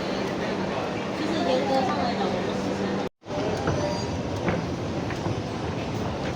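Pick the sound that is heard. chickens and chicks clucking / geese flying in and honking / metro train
metro train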